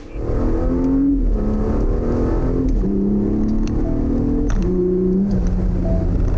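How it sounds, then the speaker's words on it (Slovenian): An SUV's three-litre petrol six-cylinder engine revs repeatedly, pitch rising and falling as the throttle is blipped, steady and fairly close with a smooth, melodic tone. "ga poganja 3-litrski bencinski 6-valjnik z zelo prijetnim melodičnim zvokom"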